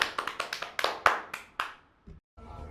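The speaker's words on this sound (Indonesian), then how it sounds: "Ya, tepuk tangan buat Kak Arman" A small group claps for a guest speaker at a school admissions talk, roughly a dozen distinct, close, crisp hand claps in loose rhythm that taper off, followed by a couple of faint soft sounds.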